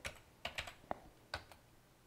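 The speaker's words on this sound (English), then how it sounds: "I'll type in some information." Someone types on a computer keyboard in short, irregular bursts of quiet clicking keystrokes with pauses between, close and soft in a quiet room.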